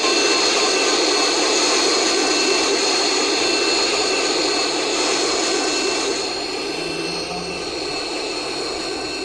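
Steady broadband roar of an airplane engine, loud and close throughout, easing slightly in level toward the end, with no voices over it.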